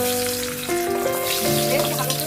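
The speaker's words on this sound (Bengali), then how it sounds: "এই যে নুন হলুদ মাখানো আলুগুলোকে এরপরে আমি তেল গরম হয়ে গেছে, এর মধ্যে আমি ছেড়ে দিচ্ছি।" Potatoes rubbed with turmeric and salt drop into hot oil and fry with a bright, continuous sizzle, steady and close, with a faint hum of other kitchen noise beneath.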